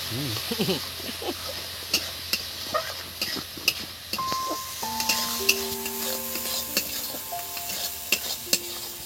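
Masala for a Surma fish curry sizzles steadily in a pan as water used to rinse the grinding stone is poured in. Scattered scraping clicks from stirring run through the hiss, with faint tonal sounds in the background.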